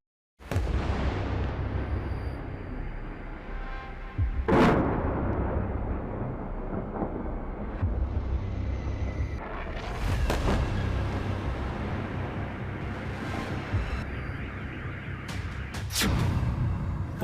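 A series of heavy, booming blasts from a Kinzhal hypersonic missile strike on Kyiv over a constant loud rumble, with sharp cracks near the start and several more bursts later, dense and chaotic.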